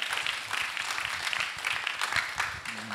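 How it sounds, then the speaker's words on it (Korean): Audience clapping to welcome a missionary lecturer on stage at a school mission festival event, a steady dense patter of many hands that continues throughout before tapering slightly at the end. "큰 박수로 환영하도록 하겠습니다."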